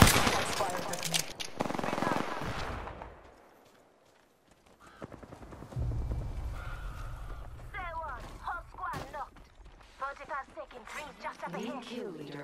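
Bursts of automatic gunfire crackle in Apex Legends, loud and dense for the first few seconds, then fade to sporadic distant shots under game effects and a talking voice.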